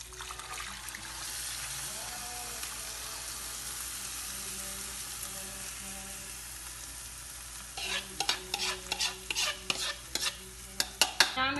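Chicken and rice sizzle steadily in a pan as tomato paste goes in, then a run of sharp scraping and stirring knocks from a spoon against the pan near the end, fairly close with no talk.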